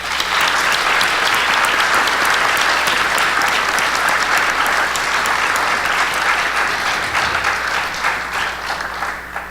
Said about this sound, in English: how about a round of applause for these brave young women?